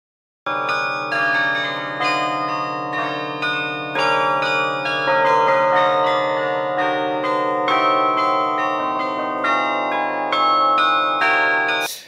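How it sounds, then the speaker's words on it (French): A sequence of ringing carillon bells plays a melody, with notes struck one after another and overlapping as they sustain, clear and fairly loud. "les cloches sont un instrument de percussion chromatique, et en particulier le carillon"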